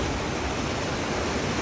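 Steady broadband rush of creek water flowing beside a campsite, a continuous close wash of running stream with no voices.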